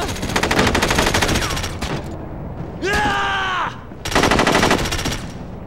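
Video game gunfire in SOCOM: U.S. Navy SEALs Combined Assault, loud rapid automatic bursts in two long volleys, broken by a brief mechanical whine with a falling pitch between them.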